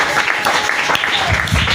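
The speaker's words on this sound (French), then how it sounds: "Tu peux acclamer pour le Seigneur." A church congregation claps and cheers for the Lord in a steady, dense burst of applause lasting the whole moment, loud and close, with voices blended into the noise.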